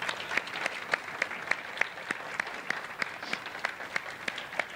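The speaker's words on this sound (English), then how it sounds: "Let's all give Barbara a round of applause" Steady applause from an audience at a church Q&A, given for guest speaker Barbara Karnes, with many hands clapping in a dense, even patter at moderate distance, sharper individual claps standing out all the way through.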